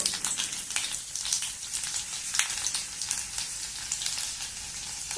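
Fenugreek seeds and garlic fry in hot oil with a steady, dense sizzle and crackle, continuous and close, with no talking.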